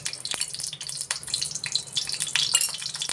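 Oil tempering (oggarane) sizzles in a pan, crackling and spitting in irregular bright pops over a steady frying hiss, close and fairly quiet.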